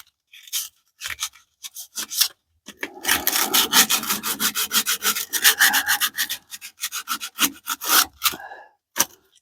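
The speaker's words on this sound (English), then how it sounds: "we're going to clean this off with some sandpaper, because this is the old pipe" An old brake pipe is scrubbed with sandpaper in quick, close back-and-forth strokes that come in bursts with short pauses, dry and raspy, with no talking.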